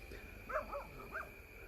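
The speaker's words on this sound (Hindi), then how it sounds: "कुत्तों के भौंकने की आवाज़ें तो आ रही थी" Dogs bark a few times at a distance in a jungle at night, the faint yelps and bow-wows carried over a steady hum of insects and background noise.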